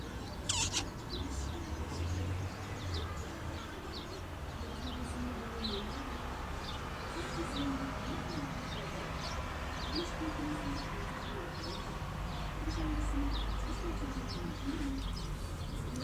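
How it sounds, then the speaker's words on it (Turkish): A pet bird, apparently a dove, on a home balcony gives soft repeated cooing and light chirps against steady outdoor background noise, moderately near and ongoing for the whole stretch. "İşte balkonda kuşum."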